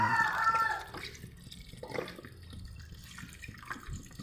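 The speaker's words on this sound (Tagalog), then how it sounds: "bubuhusan ko pa rin po ng tubig na napakalamig para masigurado natin na talagang" Very cold water poured over a cooked fern salad, a short close splashing pour at the start that drops off into quiet trickles and small sounds.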